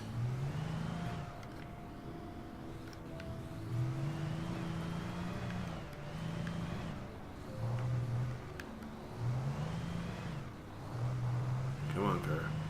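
Car engine in the Alan Wake video game revving in repeated surges as the vehicle tries to reverse out of a tight spot, rising and falling in pitch, with someone talking over it.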